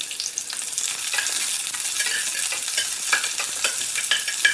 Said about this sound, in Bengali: তেলের মধ্যে দিয়ে ভালো করে আমার ভেজে নিতে হবে